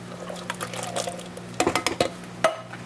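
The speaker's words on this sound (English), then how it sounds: "So in my crock pot, I'm going to put my chili beans, undrained, all the liquid." Undrained canned chili beans with their liquid pouring and sloshing into a crock pot, with a soft wet stream followed by several close plopping splats and a knock against the pot.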